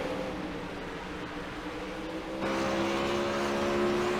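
A race car at the Kings Royal dirt-track event drones steadily along the back straight, its engine note shifting and dropping in tone midway as the driver eases off the throttle, loud and continuous with no talk.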